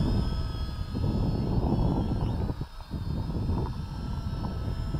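Propel Cloud Rider drone flying outdoors at a baseball field in wind, a steady close buzzing whir of small rotors that dips briefly midway, heard alone without talk.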